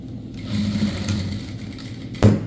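A sewing machine runs steadily while stitching a box-pleated school uniform skirt, a close, even mechanical whir that ends in a short louder clunk near the finish, with no talk.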